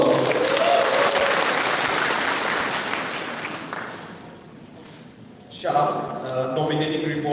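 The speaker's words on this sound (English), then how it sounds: "Let's all show our gratitude with a round of applause." An audience at a community program gives a round of applause that swells and then fades over several seconds, before a speaker's voice takes over at the end.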